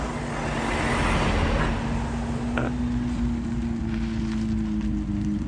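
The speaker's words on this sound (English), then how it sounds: "it's a while since I've heard the GT3 from the outside" A Porsche GT3 sports car is heard from outside as it arrives, a steady loud engine and road roar with a sustained tone that shifts pitch partway through, no talk over it.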